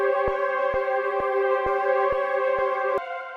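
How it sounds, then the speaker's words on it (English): Looped tonal sample in FL Studio processed with the Gross Beat slow triplet preset, heard as a steady sustained chord cut by evenly spaced rhythmic gaps about every half second. The level is moderate and drops slightly at the end, with no talking. "So his go-to presets on gross beat would be half speed, slow triplet, that sounds like this."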